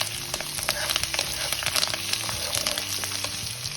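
Chopped onion sizzles and fries steadily in a hot pan for plain rawa upma with no vegetables, a dense crackling hiss with small pops and the occasional stir, heard close up and alone.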